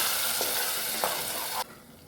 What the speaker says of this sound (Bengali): পেঁয়াজ রসুনের কাঁচা গন্ধটা চলে না যাওয়া পর্যন্ত ফ্রাই করে নিব।